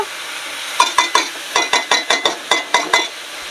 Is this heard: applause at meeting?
no